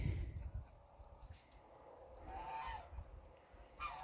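Geese honk on a farm, a few separate nasal honks spread across the moment, fairly distant and faint against quiet background rustle.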